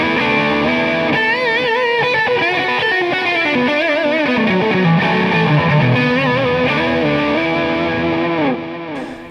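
A distorted Steinberger electric guitar, tone switch disengaged, plays sustained chords and bending melodic lines, loud and full, ringing out briefly at the end.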